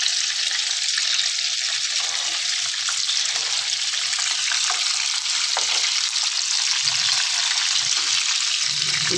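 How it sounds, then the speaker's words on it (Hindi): Gola kababs deep-frying in hot oil, a steady loud hiss and crackle of bubbling oil lasting throughout, close and alone with no talk. "गोला कबाब देखें हमारे तकरीबन फ्राई हो चुके हैं।"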